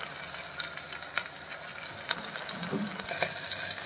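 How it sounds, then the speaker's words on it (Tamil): Ginger garlic paste sautéing in a pan, a steady close sizzle and crackle of frying with occasional brief stirring clicks and pops throughout. "இஞ்சி பூண்டு பேஸ்ட்டு கொஞ்சம் வதக்கிக்கலாம்"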